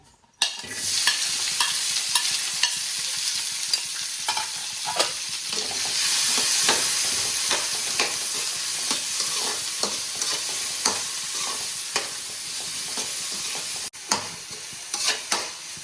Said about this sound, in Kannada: ಅದಕ್ಕೆ ಒಂದು ಸ್ವಲ್ಪ ಎಣ್ಣೆ ಹಾಕಿ ಈರುಳ್ಳಿ ಟೊಮೆಟೊನ ಫ್ರೈ ಮಾಡ್ಕೊತೀನಿ